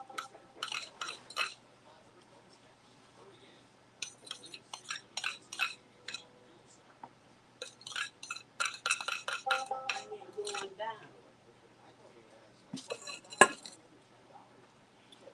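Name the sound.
stirring peach cobbler mixture in a dish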